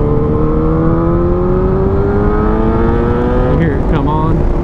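A Yamaha FZ8 motorcycle accelerates in second gear toward 6,000 RPM, its engine tone climbing steadily and loudly, then dipping briefly near the end before rising again.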